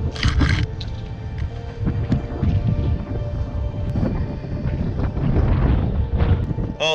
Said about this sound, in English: The wind has just come in pumping from the south